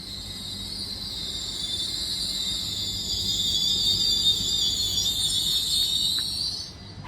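Class 805 unit 805013 pulls into Lichfield Trent Valley station with a steady, high electric whine and a faint rumble underneath. The sound holds close and even, then eases off near the end, with no voices.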